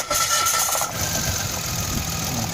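A 2017 Mitsubishi Mirage engine with a misfire runs close and loud just after starting, a rough uneven drone with a steady hum over it.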